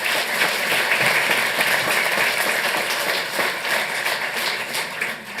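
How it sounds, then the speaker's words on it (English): Steady applause from an audience at a city council meeting, a dense wash of clapping holding level throughout and easing slightly at the end. "Give them a big round of applause"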